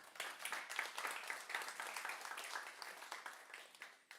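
An audience at a workshop applauds, a dense wash of many hands clapping steadily, soft and somewhat distant, with no talking.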